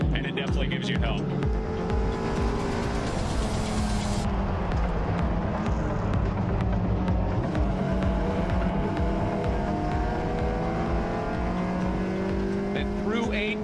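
Race cars at speed on the GRIDLIFE Midwest circuit roar steadily under a commentator's voice, with loud continuous engine noise, rising and falling pitch as cars accelerate, and occasional tire squeal.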